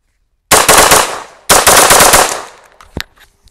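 B&T APC9k with a binary trigger firing two fast bursts of rapid shots, each shot from the pull and release, loud and close, with a metallic clink after the second burst.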